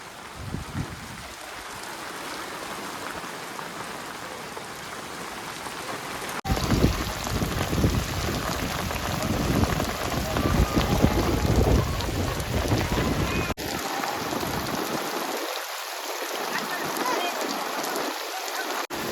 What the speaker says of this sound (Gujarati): વરસાદ સાથે સાથે પવન છે જો બધું પાણી અંદર આવી જાય છે